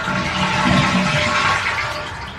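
Water draining out of a toilet tank with a rushing, gurgling flush that runs steadily and then tapers off, close and clear with no talking.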